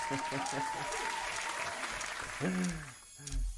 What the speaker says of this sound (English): Hold on, I got some applause.